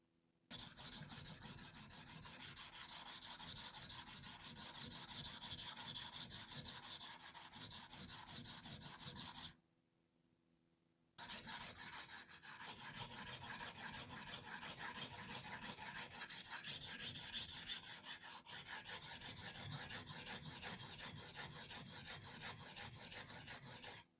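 A heavy 10 mm double-bevel deba knife with a chipped edge is rubbed back and forth on a coarse Shapton Kuromaku 120 whetstone, a steady close gritty rasp that stops for about a second and a half partway through, then resumes.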